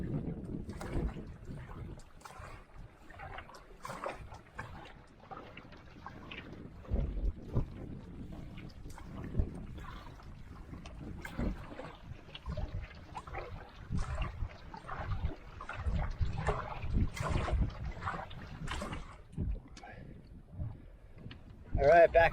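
Wind buffeting the microphone while paddling a canoe across Bog Lake, a continuous rough low rumble with gusty surges and faint water splashes, with a voice talking over it.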